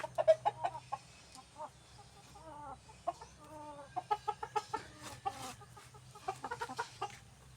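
Farm chickens clucking in short repeated bursts, fairly close, with a low steady hum underneath.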